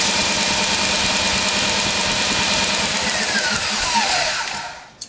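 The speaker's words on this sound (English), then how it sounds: "Alright, I've got my 1/2-inch Milwaukee drill set up." A half-inch Milwaukee drill cranks a single-cylinder Yamaha 3 HP outboard engine, a loud, steady whirring drone with rhythmic engine pulses, then a falling whine as it winds down and stops abruptly at the end.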